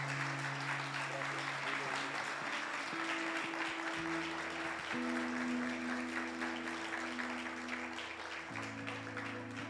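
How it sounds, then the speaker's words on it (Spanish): Church congregation applauding loudly for Jesus during a sermon, a steady dense wash of clapping lasting throughout while sustained organ or keyboard chords play underneath. "Denle un aplauso fuerte a Jesús."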